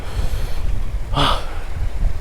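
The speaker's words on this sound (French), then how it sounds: "le vent il vient comme ça, du coup je l'ai vraiment continuellement" Wind blows steadily across Mediterranean sea cliffs during shore jigging, a low blustery rumble buffeting the microphone, with a brief vocal exclamation in the middle.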